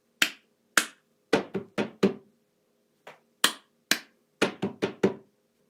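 Cup song rhythm played by hand: sharp claps and flat hits on a table in a repeating clap, clap, table, table pattern, crisp and close with brief pauses between groups, no talking.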